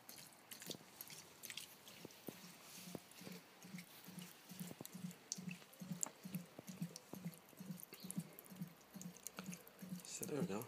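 Water from a nearly empty draining tank trickles into the edges and down the holes, making a faint, steady run of regular drips about every half second, with quiet talk now and then.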